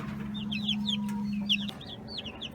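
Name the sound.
chickens clucking in coop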